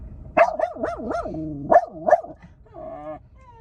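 A dog barks several times in a quick series of sharp, rising yelps, close and loud, with no one talking.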